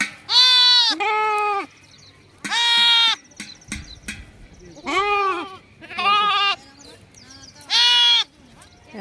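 Several loud, high bleats from lambs a few days old, kept indoors, come close to the microphone in short bursts, separated by brief quieter pauses.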